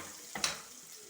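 Black cumin seeds dropped into hot oil for frying greens, a brief bright hiss and crackle that flares up for a moment and then settles to a faint sizzle, close and quiet.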